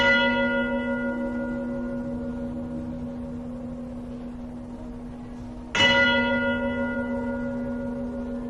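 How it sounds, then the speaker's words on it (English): A church bell rings two loud, close strikes, each leaving a long, slowly fading tonal hum, with the second strike arriving after several seconds of decay. "bells chimed within the structures"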